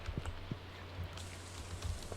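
Rain falls in the Stardew Valley farming game as a faint, steady patter with a low hum beneath it and occasional soft drops, without any voices.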